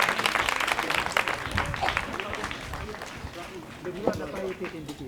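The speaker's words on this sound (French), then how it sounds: "Applaudissements pour l'équipe C." A small group at a children's quiz game applauds a team, scattered uneven clapping mixed with voices and movement, moderately loud and close.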